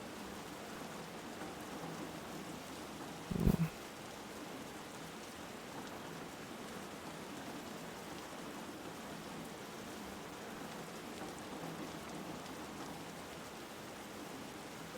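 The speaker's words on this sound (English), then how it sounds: "The sound of the rain is so nice in this world." Steady rain falling in a video game world, a soft, even hiss throughout with one brief sharp knock near the start; faint and unbroken, with no voices.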